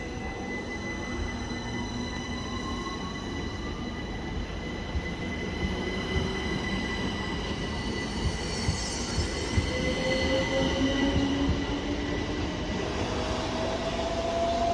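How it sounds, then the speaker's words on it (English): A Class 377 electric train pulls away from a station, a steady close rolling rumble with rising motor whine and thin wheel squeals growing slightly louder as it departs. "Just wait for our train to depart."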